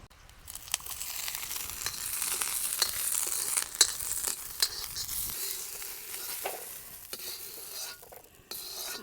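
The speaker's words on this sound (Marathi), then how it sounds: "आता आपल्याला मिरच्या टाकायच्या आहेत त्याच्यात भाजून घ्यायच्या आहे मिरच्या" Green chillies and peanuts roast in a hot iron kadai, giving a soft dry crackle with repeated scraping and stirring strokes from a spatula, fairly faint and with no voices.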